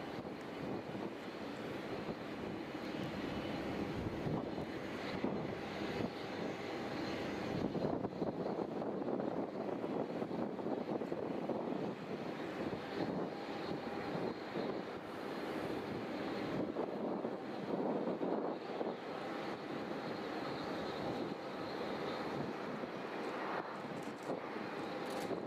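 A Condor airliner with a striped tail fin, arriving from Palma at Düsseldorf airport, gives a steady broadband engine roar that holds at an even level throughout, mixed with wind noise outdoors.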